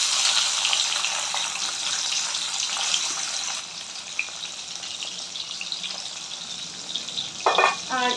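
Boiled soybeans fry in a pan for chow mein, giving a steady broad sizzle that eases partway through, with a short burst of clinking or running water near the end.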